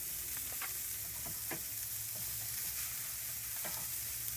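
Venison filets sizzle on a Char-Griller Akorn grill with a steady, even hiss, broken now and then by faint pops and clicks, and no one speaking.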